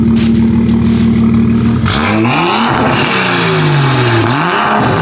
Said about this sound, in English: revs. Little revs.